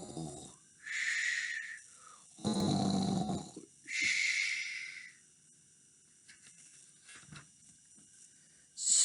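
A voice imitates a leopard's snoring in a children's read-aloud story, with several loud, rasping snore-like breaths in a slow rhythm separated by pauses.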